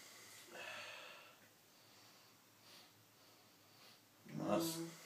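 Someone sniffs a glass of BrewDog IPA Is Dead HBC beer, a few faint nasal inhalations followed by a louder, closer sniff near the end, in a quiet room with no talk.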